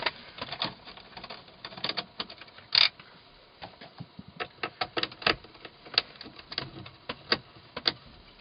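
Screws being removed from either side of a BMW E46 3 Series head unit: a run of small, quiet, irregular ticks and clicks from a screwdriver working the fasteners, close to the mic, with one sharper click near the middle.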